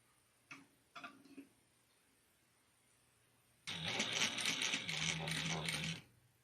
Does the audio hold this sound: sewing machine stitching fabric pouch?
yes